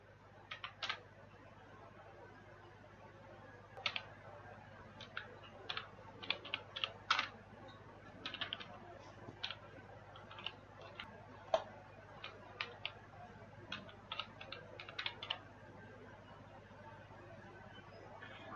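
Keys on a computer keyboard are tapped in short, irregular bursts and single clicks, soft and close against a quiet room hum.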